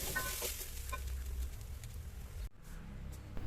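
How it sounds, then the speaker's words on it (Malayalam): Grated coconut roasting in a hot pan while being stirred now and then, producing a soft dry sizzle and scraping that continues with a brief dip partway through. "തേങ്ങ നന്നായിട്ട് തന്നെ ചൂടാക്കി എടുക്കുന്നുണ്ട് ഇടയ്ക്കിടയ്ക്ക് ഇങ്ങനെ ഇളക്കിയിട്ട് കൊടുത്തിട്ട് ഇതൊന്ന് ചൂടാക്കി എടുക്കാം"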